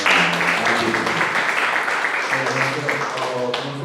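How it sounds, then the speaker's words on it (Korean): Audience applause at an academic presentation on the 5.18 uprising, a steady broadband clapping wash that stays fairly loud throughout while faint voices murmur underneath. "자, 힘찬 박수로"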